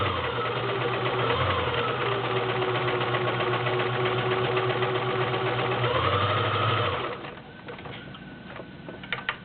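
A vintage Kenmore model 1351 convertible mechanical sewing machine runs a straight stitch in a steady, continuous whir for about seven seconds, then stops, leaving quieter clicks and handling noises.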